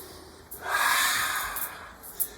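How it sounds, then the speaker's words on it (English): A single forceful qigong lion's breath exhaled through the mouth as a loud, rushing breath that swells and slowly fades, with a brief sharp sniff near the end. "Here again, we're using the warrior's breath. In yoga, I think this is called the lion's breath."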